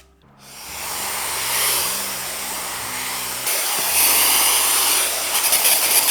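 A hair dryer runs on a lower setting with a steady, airy whoosh and a low hum, close and continuous for several seconds, strengthening slightly partway through, with no speech.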